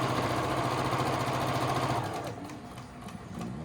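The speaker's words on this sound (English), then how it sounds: "I'll just sew that up there" A sewing machine runs in a close, steady mechanical whir for about two seconds, then cuts off, leaving quiet room noise.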